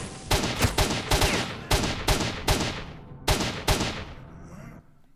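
Bursts of a high-rate, scoped machine gun fitted with a grenade launcher in S.T.A.L.K.E.R.: Shadow of Chernobyl: about nine sharp, loud shots in short clusters, then a fading tail.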